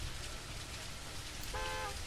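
Steady rain falling at a bus terminal in the game Bus Simulator Indonesia, a constant soft hiss throughout with a short bus horn toot near the end.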